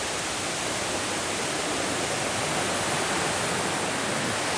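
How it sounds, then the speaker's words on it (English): High Shoals Falls waterfall cascading in Chattahoochee National Forest, a steady broadband rush of falling water, close and constant with no voices. "A really cool little cascade funking down."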